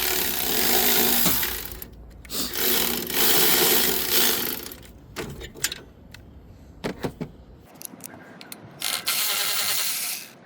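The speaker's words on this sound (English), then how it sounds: "right now we'll take off the lower board just like so with a ratchet." A hand ratchet works loose the lower board on a 2016 Toyota RAV4, loud rapid clicking bursts close by, alternating with pauses, clanks and handling noises of metal parts.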